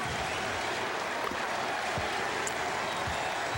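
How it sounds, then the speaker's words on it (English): Dense, steady roar of a basketball arena crowd during the 2002 NBA Finals between the Lakers and Nets, a continuous wash of massed voices and clapping without a clearly distinct rhythmic chant. "Crowd chanting its appreciation of Jason Kidd with the MVP mantra here"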